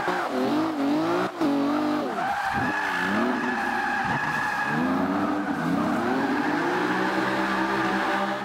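A car skidding with the handbrake through a building, tires squealing in long wavering sweeps over a revving engine, loud and continuous.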